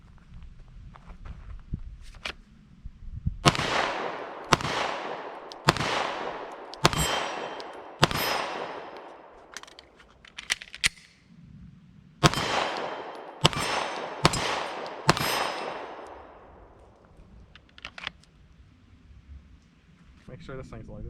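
Glock 19X Gen 5 pistol firing outdoors: a string of loud, sharp shots in two quick bursts with ringing decay, footsteps and low talk between them.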